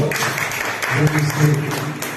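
A church congregation applauds at the close of a Sunday morning devotional service, steady clapping from many hands mixed with voices and cheers throughout.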